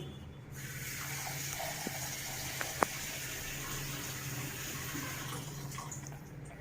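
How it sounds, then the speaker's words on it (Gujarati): Lentils for Rajasthani dal being rinsed in clean water, a steady close wash of running and sloshing water with a couple of sharp clinks partway through, no voices. "આ બધી દાળને આપણે ચોખ্ખા પાણીથી 2 વાર ધોઈ નાખવાની છે."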